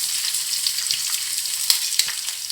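Chopped green chili, ginger and garlic sizzle as they fry in a pan after cashews are browned for Kerala-style chicken kabsa, making a steady, moderately loud crackle with a few sharp pops.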